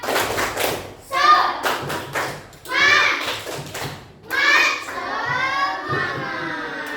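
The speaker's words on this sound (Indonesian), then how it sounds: "tepuk satu, tepuk satu, tepuk dua, tepuk semangat" A class of fourth-grade children claps in rhythm during a chanted clapping game, sharp hand claps falling in bursts between bouts of sung group chanting by the kids.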